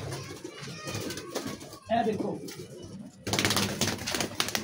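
Rampuri pigeons coo in soft, low bursts up close while someone talks over them, with handling noises between the calls.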